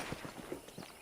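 Horse hoofbeats while riding in the video game Red Dead Redemption, a faint, steady clip-clop rhythm of several quick, evenly spaced thuds.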